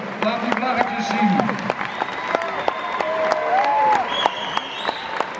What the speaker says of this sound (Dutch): En een applaus, laat het nog horen, laat die vlaggetjes zien.